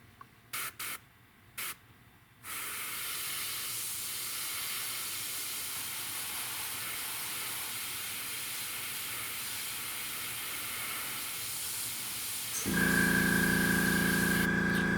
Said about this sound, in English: spray some insignia white